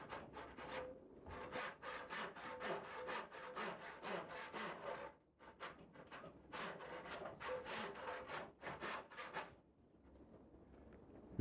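Rhythmic rasping strokes of a hand tool trimming a new wooden spoke for a wagon wheel in a wheelwright's shop, two long bursts of steady back-and-forth scraping separated by a brief pause, close and fairly loud with no talking.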